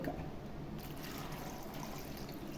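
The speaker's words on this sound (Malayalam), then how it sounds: "നമുക്ക് ആവശ്യത്തിന് വെള്ളം" Water is poured into a cooking pot already seasoned with salt and turmeric. A steady, faint trickling splash runs continuously for a couple of seconds without pause.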